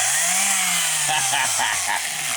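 Electric sander running steadily after its faulty switch was bypassed and hardwired, a loud continuous motor whine with rising and settling pitch and light rattling toward the end.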